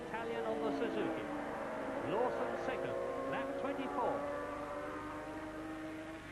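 500cc Grand Prix motorcycles race at Silverstone in 1984, engines whining and rising in pitch as they pass, with the Italian rider on a Suzuki among them; a commentator talks steadily over the noise.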